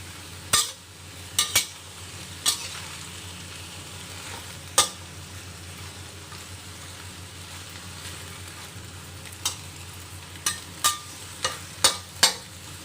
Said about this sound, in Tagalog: Antayin lang po natin na maluto ang ating gulay.